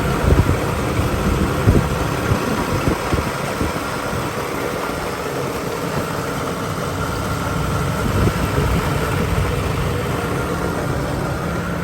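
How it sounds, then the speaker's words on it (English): A 1986 GMC Caballero engine idling with dual exhaust, a steady, even mechanical rumble with a constant low drone and faint fan whir, running alone without voices. "Engine sounds good."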